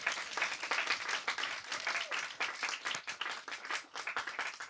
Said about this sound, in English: Can we clap? Can we clap for that?